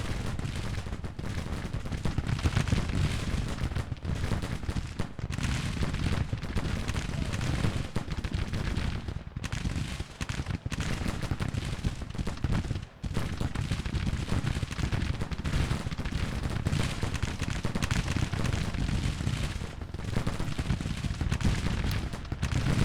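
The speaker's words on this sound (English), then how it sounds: "They're under artillery fire, it says." Artillery and massed rifle fire on troops in the Civil War strategy game Grand Tactician, a dense, continuous rumble of booms and crackling volleys with no pause, loud and unbroken across the whole stretch.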